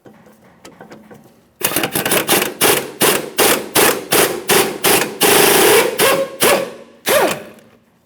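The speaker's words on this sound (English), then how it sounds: "Use a 14mm to remove the pinch bolt." A 14mm wrench works the strut pinch bolt on a 2003-2007 Honda Accord's front knuckle, giving a run of about a dozen sharp, evenly spaced metallic ratcheting bursts, loud and close, after a quiet start.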